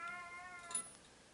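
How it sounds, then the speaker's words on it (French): A pet cat gives a single soft, drawn-out meow indoors, quiet and close, with no one speaking. "moi, j'ai des chats qui parlent"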